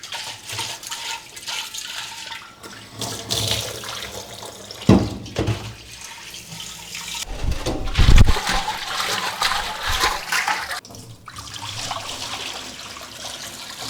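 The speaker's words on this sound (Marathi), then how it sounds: "परत दोन तीन वेळा पाणी घालून चांगला खळखळून स्वच्छ धुवून घेतला" Water is poured and swished inside a clay water pot (matka) being rinsed clean after scrubbing with salt, giving sloshing, splashing surges of varying loudness with a few sharp knocks, close and continuous.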